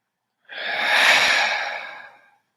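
A single long, deep breath taken during a guided meditation, a soft, airy exhale heard close up against silence, lasting about two seconds.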